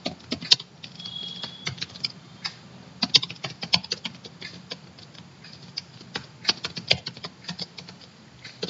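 Typing on a computer keyboard while writing a C program, a steady run of light, irregular key clicks and taps close by, with occasional louder strokes and no speech.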